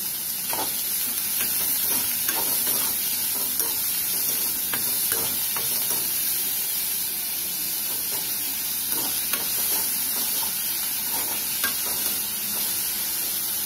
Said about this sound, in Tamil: இப்போ வெங்காயம் நல்லா வதங்கி வரட்டும், வெயிட் பண்ணலாம்.